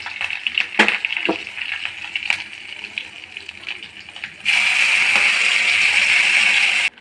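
Mustard seeds, urad dal, curry leaves and asafoetida hit hot sesame oil for tempering: a few light clinks and rustles, then a sudden bright, steady sizzle that holds close and loud until it cuts off.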